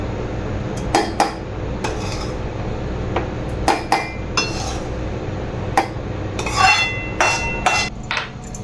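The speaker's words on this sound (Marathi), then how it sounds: "तर आता हा भाजलेला रवा मी मिक्सर जारमध्ये काढून घेते" Roasted semolina is scooped into a steel mixer jar, giving repeated sharp metallic clinks and taps from a spoon on steel at irregular intervals over a low background hum.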